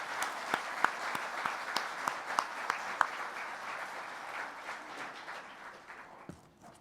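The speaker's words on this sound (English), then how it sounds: "let's give them a round of applause" Applause from a civic tech forum audience honouring council members: moderate clapping with a few sharp nearby claps standing out early, gradually thinning and tapering off toward the end.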